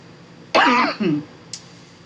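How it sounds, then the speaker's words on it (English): A single harsh, close cough followed by a shorter rasping throat-clearing, then a faint click and quiet. "man, I have coughed for days now"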